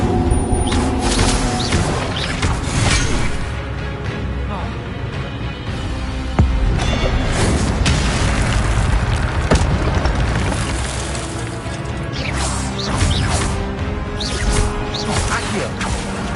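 The Incendio fire spell is cast during Hogwarts Legacy gameplay, a loud, dense spread of bursting whooshes and booming impacts layered over constant game noise and music, with several sharp surges.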